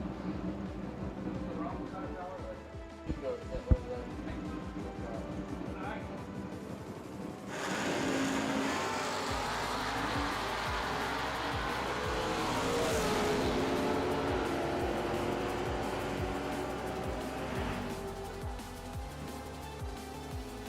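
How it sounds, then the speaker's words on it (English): A big Chevy II and a 1969 Plymouth F-stock automatic run in a drag race at Bowling Green. Engine roar builds and surges at a distance, steady and broad, with a public-address announcer talking over much of it. "Mike Welfel, left lane, the big Chevy 2, taking on Mark Poole, the Hendersonville, Tennessee-based 69 Plymouth F-stock automatic."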